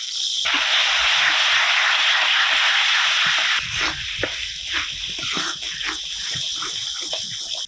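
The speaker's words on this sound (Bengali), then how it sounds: "একটুখানি জল দিয়ে ভালো করে মশলাটা কষে নেবো" Chicken spice masala fries in a pan, a loud steady sizzle that drops when a little water is added, then gives way to bubbling, sputtering and soft scraping strokes close by.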